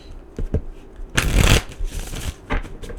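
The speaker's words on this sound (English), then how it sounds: "Pull you 3 tarot cards. 3 tarot cards for your past life." Tarot cards being shuffled and drawn for a past-life reading: a few soft riffling bursts and one longer, louder shuffle in the middle, close up, with no voice.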